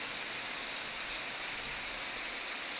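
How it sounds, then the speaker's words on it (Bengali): Heavy rain pouring down steadily, a dense, uniform hiss of falling water with no breaks, fairly soft in level and with no voices. "কঠিন বৃষ্টি হইতেছে, কঠিন বৃষ্টি।"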